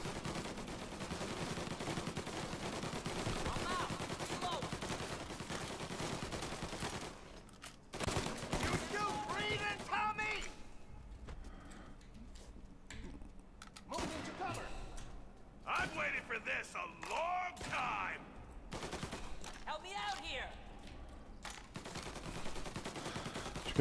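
Pistol gunfire in Mafia Definitive Edition rings out in several separate bursts over a steady, busy background, with talking heard throughout.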